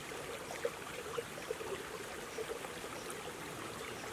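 Water trickles from between rocks as a steady, soft babbling stream, with a few faint drips and splashes standing out now and then and no voices.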